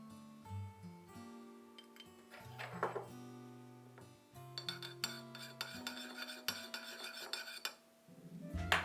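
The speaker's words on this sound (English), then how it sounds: "In a bowl, combine 1 tablespoon of soy sauce, 1 teaspoon of sesame oil, and 1 teaspoon of chili oil" Soy sauce, sesame oil and chili oil being stirred together in a small bowl with a utensil: close, light clinks and scraping, with ringing taps against the bowl and a steady mixing rhythm.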